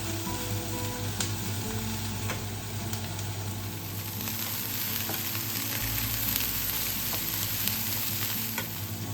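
Food sizzles steadily in a hot pan, a constant crackling hiss with occasional stirring clinks, close and continuous throughout.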